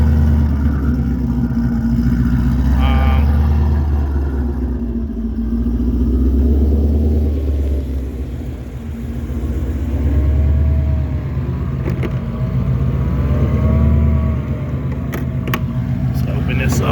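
A 2020 Shelby GT500 Mustang with a Whipple supercharger and Borla exhaust idles after a cold start, a deep rumbling idle that swells and dips slightly, with people talking nearby over it.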